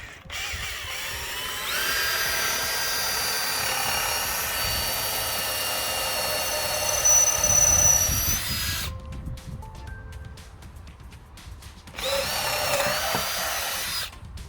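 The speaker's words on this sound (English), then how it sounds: "you're drilling a hole at about 8 inches" A power drill whines loudly and steadily, boring into the wood of a tomato trellis, stops briefly with some clatter, then starts up again near the end.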